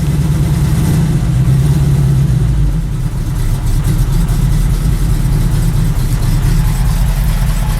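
A cold car engine fires up and runs roughly. A loud, close, low rumbling drone with an uneven throb shifts in pitch early on, then settles into a steady running note.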